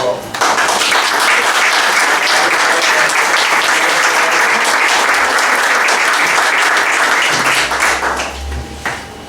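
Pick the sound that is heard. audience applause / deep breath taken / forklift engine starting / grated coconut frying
audience applause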